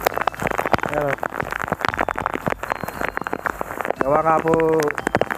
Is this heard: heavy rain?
yes